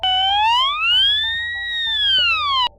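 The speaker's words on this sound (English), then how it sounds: "crash alarm" A ship's crash alarm sounds on a flight deck, a loud electronic tone sweeping slowly up and then back down before cutting off abruptly, steady and close with no talking.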